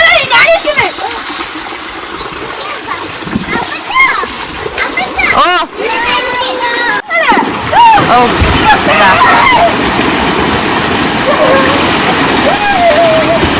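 Water rushing out of a small play dam built by children near banana plants, a loud splashing gush with children talking and exclaiming excitedly over it throughout.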